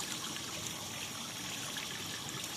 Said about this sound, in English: Water's flowing down this way.